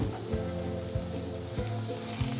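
Bottle gourd halwa with milk powder, its milk already cooked down, sizzles steadily in a pan, with a regular rhythm of stirring strokes scraping through the mixture every second or so, close and fairly quiet, with no talking.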